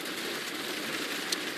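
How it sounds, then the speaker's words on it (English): Very heavy storm rain pours down steadily during a severe weather outbreak, a dense, even hiss with no pauses and no talking. "this rain is very, very heavy and the visibility is extremely low"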